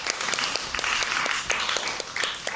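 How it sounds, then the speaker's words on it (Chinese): An indoor audience at a travel talk applauds, a steady patter of many hands clapping at close to moderate distance, sustained throughout with no pauses. "所以我们再给他一个掌声鼓励。"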